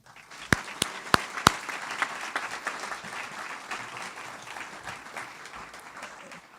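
Audience applause at a university awards ceremony opens with a few loud, close claps, then settles into steady, moderate clapping from a crowd that fades slightly toward the end.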